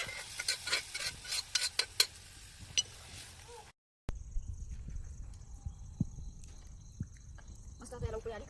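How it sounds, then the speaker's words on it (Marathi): Masala being stirred and sautéed in a pan for amti, cooked over a village wood fire: close scraping and stirring strokes with a light sizzle, broken by a brief silent gap, then quieter intermittent clinks and stirring. "चांगला असा मसाला थोडंसं परतून घेऊया."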